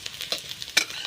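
Finely chopped carrot pieces being stirred and fried in a pan for a potato and soybean dish: a steady close sizzle broken by several sharp spatula scrapes, one louder near the end, with no talking.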